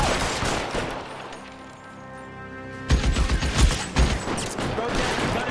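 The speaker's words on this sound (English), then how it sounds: "Lay down some covering fire" Video game shootout in L.A. Noire: dense bursts of gunfire crackle loudly after a brief lull, overlapping rapid shots and volleys rolling on for several seconds.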